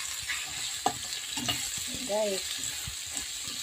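Chopped onion sizzles and fries in a small amount of oil in a pan while being stirred, a steady hiss with brief scraping, and a voice speaks briefly over it.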